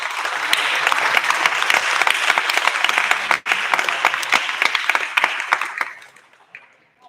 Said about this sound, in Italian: Bel applauso